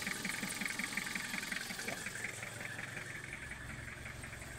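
A car engine idles while warming up, close by, with a steady low rumble and a faint rhythmic knock that pulses evenly all the way through, and no talk over it.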